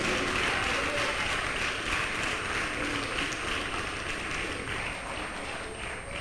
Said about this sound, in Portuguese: Pode aplaudir o nome dele